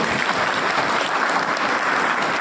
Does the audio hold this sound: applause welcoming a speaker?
yes